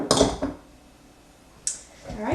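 Frozen blueberries are folded into grain-free coconut muffin batter, heard as a few close clinks and scrapes of a utensil against a bowl, with quiet gaps between them.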